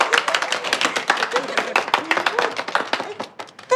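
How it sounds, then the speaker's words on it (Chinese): A group claps together after being called on to applaud an employee who has just passed her probation at a company, a dense burst of rapid overlapping claps that runs steadily throughout and trails off near the end. "鼓掌！"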